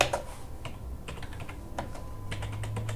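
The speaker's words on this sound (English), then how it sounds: "I could actually just type that in here" Keys clatter on a computer keyboard as a room number is entered into a call log system, bursts of quick clicks with brief pauses, close and clear over a faint steady hum.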